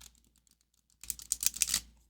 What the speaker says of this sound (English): let's give her a shuffle